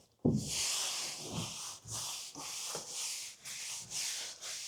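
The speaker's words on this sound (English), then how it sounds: "so I'll just give it a rub down with this, just to make sure that it's all the dust is gone" Cloth rubbing down a cedar strip canoe, a microfiber cloth swept in steady repeated strokes over the wooden hull, each pass a soft, close, breathy swish in an even rhythm.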